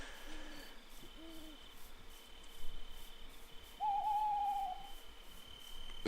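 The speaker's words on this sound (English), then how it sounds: "Lovely hooting of the owl there." In the Minecraft video game, an owl gives a few soft hoots followed by a longer drawn-out hoot, heard over quiet ambient background with no talking.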